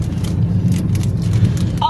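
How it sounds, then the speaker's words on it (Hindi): A car jolting along a bumpy road, with a constant low engine and road rumble and faint rattles throughout, loud and close from inside the cabin. "गाड़ी बहुत उछल रही है"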